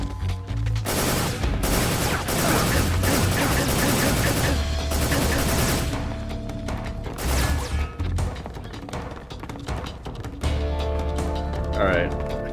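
Enemy gunfire in Metal Gear Solid 3 Snake Eater: loud, dense bursts of rapid shots and crashing impacts come in waves, with a short lull before firing resumes.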